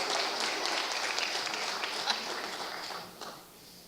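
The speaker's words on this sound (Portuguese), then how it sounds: "Como bons presbiterianos, batam palmas." Audience applause at a Presbyterian show or talk event, a steady wash of clapping that fades gradually over a few seconds, with a voice faintly over it.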